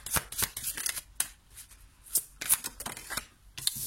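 Tarot-style cards being shuffled and drawn for a card reading, with quick close crisp slaps and riffles of cards in uneven bursts, no talking.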